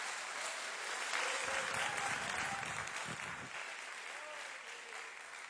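A church congregation claps loudly and continuously for several seconds, a dense wash of applause with a few faint shouts rising through it.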